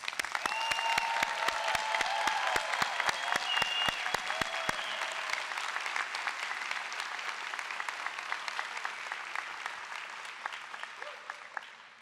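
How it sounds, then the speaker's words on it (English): Commencement ceremony crowd at the University of Tennessee College of Architecture and Design applauding the graduates, broad sustained clapping that gradually thins and softens over about twelve seconds, with a few brief tonal voices or whistles early on. "Please give our graduates one final round of applause."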